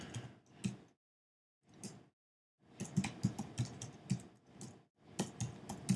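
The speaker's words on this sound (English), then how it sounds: "I'm typing too fast" Fast typing on a computer keyboard: close, crisp key clatter in quick bursts, with a pause of about a second before the rapid clicking resumes.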